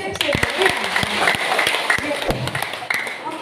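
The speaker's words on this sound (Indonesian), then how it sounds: "Tepuk tangan, tepuk saja." Audience applause at a stunting-reduction campaign event during a parliamentary work visit, heard as a steady wash of hand clapping with sharper individual claps, mixed with a voice speaking over the crowd.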